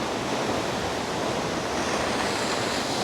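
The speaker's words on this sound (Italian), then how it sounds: "Aggiungiamola alla lista delle cascate." Svartifoss waterfall in Iceland roaring as a continuous, broadband rush of falling water, close and loud with no pauses or voices.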